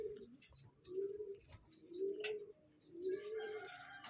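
Taiwan racing pigeons in a loft give low, repeated cooing calls in three near, moderately loud bursts, with faint chirps and some rustling between them.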